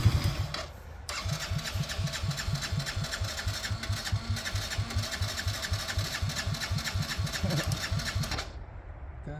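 Yamaha Grizzly 80 ATV engine cranking and then catching, a small single-cylinder putter with rapid, even pulses that idles close by for several seconds before cutting off abruptly.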